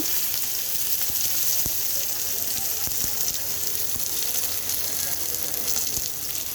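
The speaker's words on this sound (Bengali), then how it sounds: "পেঁয়াজটাকে আমি সুন্দর করে একটু হালকা ভেজে নেব" Chopped onion and cumin seeds fry lightly in oil for a Bengali curry, a steady close sizzle with faint crackles and occasional soft clicks throughout, no talking.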